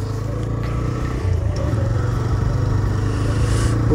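A motorcycle rides through Delhi streets at night, its engine droning steadily close by, then swelling slightly as the rider picks up speed after the first second.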